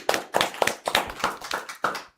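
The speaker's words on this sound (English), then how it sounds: "A round of applause for Mwalimu." Applause from an audience at a public talk, a short burst of steady, dense clapping close by that fades away after about two seconds.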